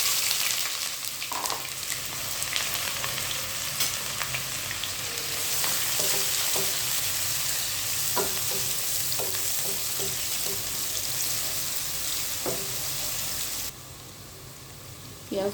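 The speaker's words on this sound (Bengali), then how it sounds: "এখন আমি পেঁয়াজ কুচি করে রাখছিলাম, পরিমাণ মতো এরকমভাবে পেঁয়াজ কুচি দিবেন।" Chopped onions fry in hot oil with a steady, dense sizzle that holds close and loud throughout, broken by a few light clinks and stirring scrapes, then eases slightly near the end.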